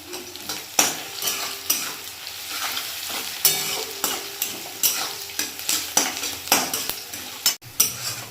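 Chopped onions with salt sizzle in a hot pan while a spoon scrapes and stirs in a repeated rhythm, close and fairly loud, for a home-style chicken masala.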